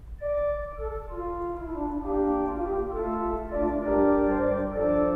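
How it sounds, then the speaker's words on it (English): A quint flute stop on a five-manual Austin pipe organ sounds a slow sequence of sustained, bright, hollow pipe notes that overlap into held chords above a faint low rumble, steady and moderately loud, with no speech. "That's a quint flute."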